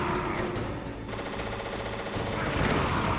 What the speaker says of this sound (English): We just basically run into him with the grenades.